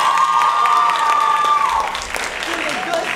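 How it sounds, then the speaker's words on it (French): Audience applause after a festival meal, dense clapping from a crowd with a sustained tone and some voices mixed in, loud and steady before easing slightly. "Et applaudissements à vous"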